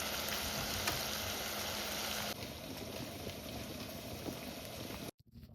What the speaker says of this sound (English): we're going to start cooking down the hamburger